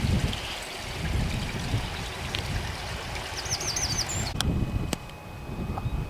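A small burn flows under a footbridge on the Fife coast between Kingsbarns and St Andrews, giving a steady broadband water rush, with a few faint bird chirps and a couple of sharp knocks near the end.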